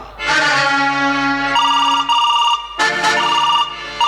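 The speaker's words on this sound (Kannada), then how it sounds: "ಮೊದಲು ಆ ಇನ್ಸ್ಪೆಕ್ಟರ್ ಸಂದೀಪನನ್ನು ಫೋನ್ ಮಾಡೋಣ" An electronic telephone ring sounds in repeated bursts of bright, steady tones with short gaps between them, loud and close, with no talking.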